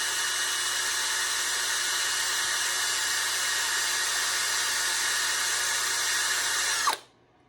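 A power tool spins a pinewood derby car wheel during wheel prep, a steady high-pitched whirring drone held for about seven seconds at close range before it stops abruptly.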